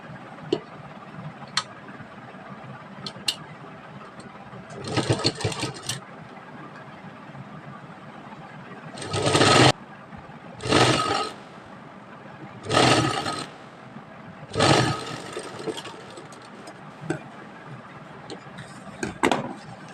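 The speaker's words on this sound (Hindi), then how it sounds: "अब दूसरी तरफ भी हम बॉटम की तरफ से ही सिलाई लगाना स्टार्ट करेंगे।" Sewing machine stitching the seam of a sleeve, heard as several short bursts of rapid, whirring stitching, each a second or two long, separated by quieter pauses with faint handling sounds.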